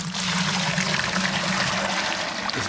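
Strike water pouring into a beer brewing vessel outdoors on a chilly morning, a continuous loud splashing stream that holds steady throughout, close by and with no voices.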